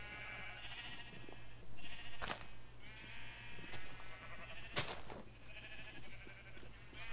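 Sheep in the Minecraft video game bleat repeatedly, wavering nasal calls one after another, quite close, with a couple of sharp click-like game sounds between them and no talk.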